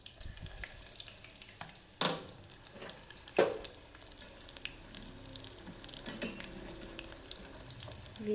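Shrimp fry in oil in a nonstick pan for crispy fried shrimp, giving a steady close sizzle with occasional sharper pops and crackles and no talking.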